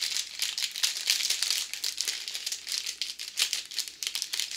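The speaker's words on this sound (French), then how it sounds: "On va devoir commencer par le toolkit. Je vais le déballer là." A packaged toolkit is unwrapped up close, with steady crinkling and crumpling of plastic wrap and brief rustles continuing for several seconds, no talking.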